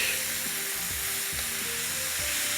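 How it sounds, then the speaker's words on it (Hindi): Minced meat frying in a pan for thaal kabab, a steady loud sizzle with soft stirring scrapes and low clinks running underneath, no talking. "कीमे को हमने थोड़ा सा करना है फ्राई इसके साथ पहले"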